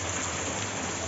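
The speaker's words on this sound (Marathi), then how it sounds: "पाऊस पण भरपूर लागला, पाणी पडतंय." Heavy rain falls steadily in a dense, even hiss on a rural farm during the planting season, continuous and alone without voices.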